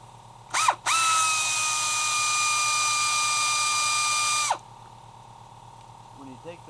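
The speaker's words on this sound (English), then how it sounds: "Now my compressor decided to go off" An air compressor motor kicks on in a garage during a front brake pad and rotor job on a 2010-2014 Chrysler 200. It starts with a brief spin-up, holds a steady loud whine for several seconds, then cuts off abruptly.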